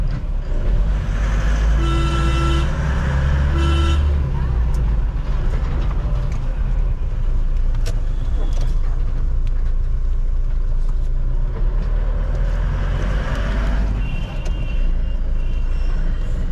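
A Mahindra Bolero Maxx 2.0 BS6 pickup drives along with a steady, loud rumble of engine and road noise that runs throughout, and a few brief tonal sounds rise near the start.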